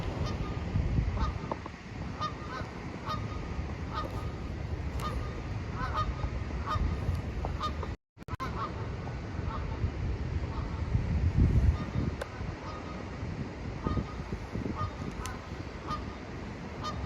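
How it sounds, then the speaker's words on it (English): Ducks honking loudly as they fly overhead outdoors, repeated calls over wind noise on the microphone, with a brief dropout midway. "there's two ducks just flew over"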